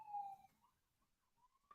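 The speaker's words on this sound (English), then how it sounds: "ambulance passing by my house here in Vancouver" A faint ambulance siren wails in the distance in Vancouver, its pitch sliding up and down as it passes, quiet and far off.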